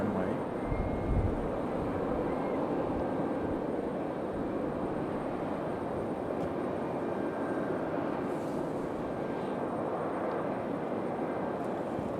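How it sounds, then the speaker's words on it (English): Delta Boeing 737 taxiing to the runway at Raleigh-Durham airport, a steady broad engine roar with a faint whine, moderately distant and constant throughout. "Delta 737 making its way out to the runway."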